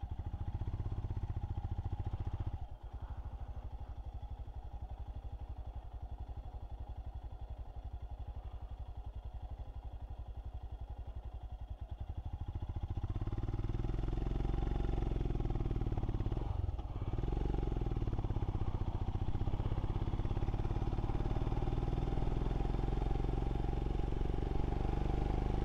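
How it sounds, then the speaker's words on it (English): Royal Enfield motorcycle engine and exhaust under way, a steady close throb that thickens and grows louder about halfway through, with a brief thump or clatter along the ride. "Oh yeah, I agree, the exhaust sounds blooming awesome, Merv."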